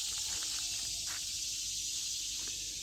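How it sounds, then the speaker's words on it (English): Loud cicadas giving a continuous high, steady buzzing drone that fills the outdoor air, with a few faint soft sounds beneath it. "Oh, those cicadas are loud."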